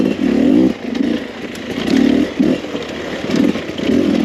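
A 2021 Beta 300rr dirt bike engine revs and bogs in uneven bursts while picking through tight terrain, loud and close with a rough two-stroke snarl rising and falling, plus some clatter from the trail.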